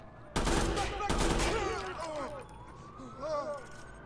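Burst-fire gunshots in the video game Watch Dogs, a loud crack of rapid shots followed by another burst, with police sirens wailing behind and a voice heard in the mix.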